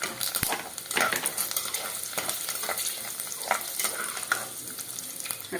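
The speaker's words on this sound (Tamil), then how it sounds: "கடலைப்பருப்பு கொஞ்சம் நல்லா செவக்கட்டும் கருவேப்பிலையோட சேர்ந்து." Chana dal, curry leaves and chillies fry in hot oil for rice upma, making a continuous close sizzle with light stirring scrapes and crackles.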